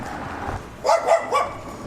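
A small dog barks a few times in quick succession, fairly close and loud, over a low background murmur on an outing in Leeuwarden.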